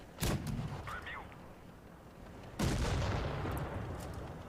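A KV-2 tank gun fires in WoT Blitz, with two loud booming shots a couple of seconds apart, each followed by a rumbling tail over the game's background noise.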